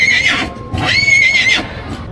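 A fifteen-month-old horse at a livestock market neighs loudly and close, two shrill whinnies separated by a short pause, with faint background noise.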